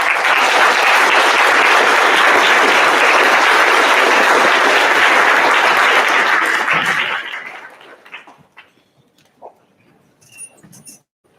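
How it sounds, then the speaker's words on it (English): Audience at a middle school Veterans Day event applauds veterans, a loud, steady roar of clapping lasting about seven seconds before fading out, followed by a few scattered sounds in near quiet. "Let's give them all a round of applause."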